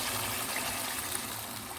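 Water gushes steadily as it is poured into a cooking pot of browned meat and raw potatoes for aloo gosht, a soft continuous rush with no talking.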